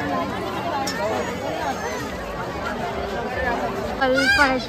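A steady babble of many voices rises from a packed Mhasa Jatra fair crowd in Murbad, nearby speech standing out over the hum and the general noise swelling briefly near the end.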